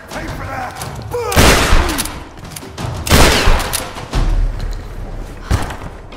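Gunfire in the Tomb Raider video game rings out in loud, heavy bursts of shots and booming impacts, separated by brief lulls and mixed with shouting voices.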